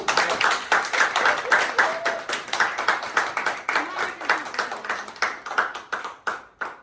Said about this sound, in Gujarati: તાળી પાડજો.